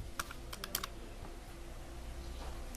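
Typing on a computer keyboard, a few quick, faint key taps in a short burst, then a quieter pause with a soft low background hum.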